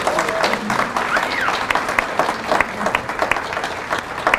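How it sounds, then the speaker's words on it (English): An audience at an industrial maintenance residency graduation ceremony breaks into a full round of applause, with many hands clapping steadily and a few voices and cheers rising over the crowd. "If we could just give this group one more round of applause."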